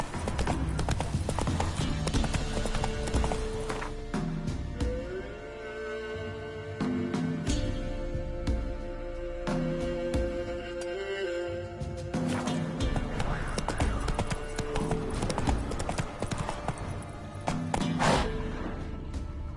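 Roach the horse gallops in The Witcher 3 with a rapid, continuous drumming of hooves, heard under loud game music and ambience through the whole stretch.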